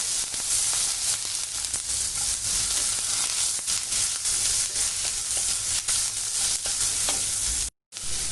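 Cumin seeds, garlic cloves and chopped onion sizzle loudly in desi ghee for a paneer bhurji, a dense, continuous crackling hiss heard up close that cuts out briefly near the end.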